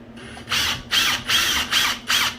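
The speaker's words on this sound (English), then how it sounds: "I'm gonna go ahead and install the bottom bolt into the anchor" A ratchet drives a bolt into a wall anchor while a TV mount is being installed, giving five rhythmic bursts of sharp clicking in quick succession, close and loud over a low background hum.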